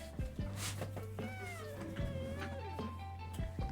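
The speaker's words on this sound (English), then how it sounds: "I have cat." A cat meows repeatedly at close range with rising and falling drawn-out calls, over a steady low background hum.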